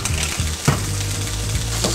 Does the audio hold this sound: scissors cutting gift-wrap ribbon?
no